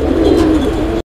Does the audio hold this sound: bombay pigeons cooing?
yes